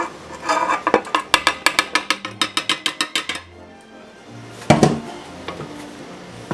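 A spoon clacking rhythmically against a mixing bowl while stirring lemonade and flour into blueberry cake batter, a quick run of sharp regular taps, then a pause and a few more knocks.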